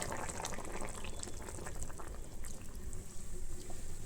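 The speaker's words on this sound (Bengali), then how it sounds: "আর আমি দেবো এখানে দুধ" Milk poured into simmering shukto vegetable curry, a continuous bubbling and liquid rush that stays fairly even throughout, moderately close, with no voices.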